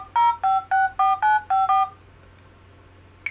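A phone number is keyed in on a phone as eight quick touch-tone beeps in an even rhythm, close and clear, followed by near silence.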